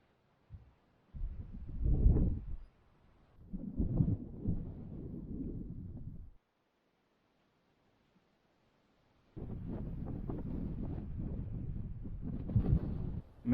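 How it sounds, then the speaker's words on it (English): Strong wind blasting hikers on a trail descending into the Grand Canyon: heavy buffeting gusts roar across the microphone in bursts, broken by a couple of seconds of near silence before another sustained blast. "the wind continues to blast us."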